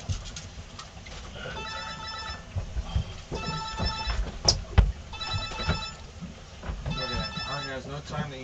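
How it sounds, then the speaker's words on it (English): A telephone rings in repeated bursts on a Lake Erie yellow perch fishing boat, several ring patterns recurring across the clip under ongoing talk and background noise. "No time to answer his phone."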